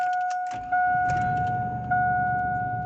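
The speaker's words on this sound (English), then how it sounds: "I just put back the switch, and I'm gonna turn on the vehicle" Ignition of a 2002 Cadillac Escalade: a faint jingle of keys, then the engine turns over and catches at about half a second, settling into a steady low idle with two steady electronic dashboard chimes running through it.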